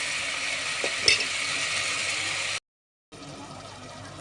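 Onions, green chillies and tomatoes, salted, fry in a pan with a steady hiss while being stirred, one clank of the spoon standing out, before a short dead gap and the sizzle returning.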